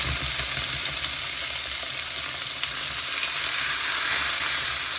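Fish laid into hot oil in a pan fries with a loud, steady, dense sizzle that holds without a break.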